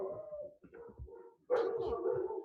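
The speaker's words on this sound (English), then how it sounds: "Our dogs went a little crazy" Household dogs whimper and whine in high, wavering yelps, then break into louder overlapping barks and cries, close by and indoors, with no talk over them.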